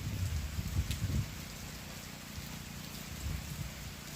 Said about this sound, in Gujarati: ધીમો ધીમો વરસાદ વરસે છે.